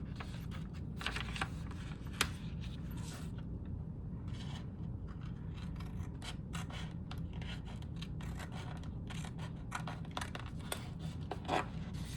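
Scissors trim a piece of paper for a collage, with close, soft snips and rustles scattered irregularly over a quiet background and no talking.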